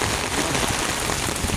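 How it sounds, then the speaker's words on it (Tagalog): Heavy rain pours down in a dense, unbroken roar across the whole moment, loud and close, with no voices. "Lakas ng ulan."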